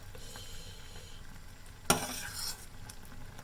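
Spoons gently working through pieces of a red, glossy Vietnamese three-colour dessert mixture in a pan, a soft stirring hiss with one sharp clink of metal partway through, no voices.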